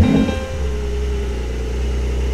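A Porsche 911 Turbo S engine fires up with a brief cranking burst, then settles into a steady, loud, low idle that holds evenly to the end.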